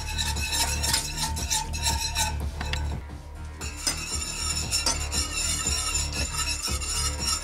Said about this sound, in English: And whisk that until you get the consistency that you like.